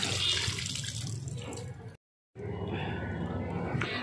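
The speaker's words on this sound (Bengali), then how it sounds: "এদিকে দেখো বালতিতে আমি জল ভরছি।" Tap water pours into a bucket with a steady, close rushing splash, cut by a short silence before it resumes; a voice talks over the flow.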